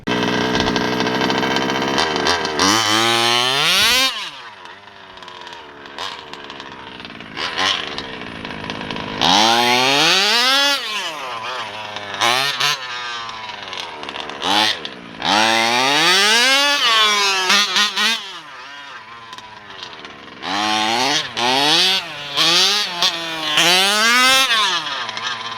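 Small nitro engine in a Losi DBXL 2.0 RC buggy fitted with a Taylor engine, revving hard in repeated bursts, pitch sweeping up and down between short idle dips, loud and close throughout.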